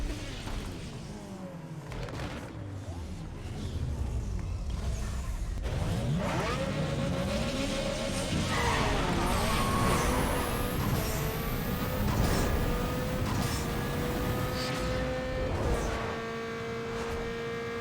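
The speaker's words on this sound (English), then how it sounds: "let's quickly go and do a drag race" A Nissan Skyline with a 2.6L inline-six and drag tune launches in a Need For Speed Underground 2 drag race, the engine revving hard through rising gear sweeps and shifts, loud and continuous with little else over it.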